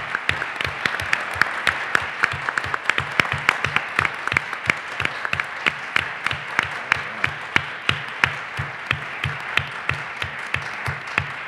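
An audience applauding panelists and a speaker at an academic symposium, with steady, dense clapping from a sizable crowd that carries on evenly throughout.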